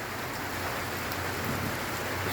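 Steady, continuous overnight rain pattering down, soft and even, with no voices.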